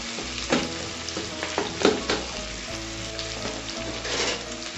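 Masala with green chillies sautéing hard in a pan for Kolkata-style egg biryani, a steady close sizzle broken by sharp scraping stirs and spatters every second or so, with no voices.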